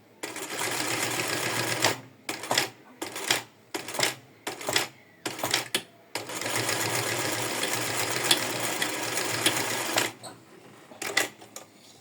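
A sewing machine stitches a bra strap and bias binding together in a bra-top build, running a long buzzing burst, then a series of short stop-start stitches, another long run, and a few final quick bursts.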